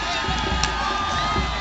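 Crowd cheering and clapping at a college annual games march past, a dense continuous roar of many voices with whoops rising over it, loud and sustained throughout.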